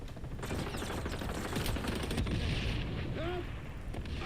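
Grenade blasts and rapid gunfire in the shooter game XDefiant, a continuous rumbling barrage of explosions and bursts of fire at moderate level, with voices faintly mixed in.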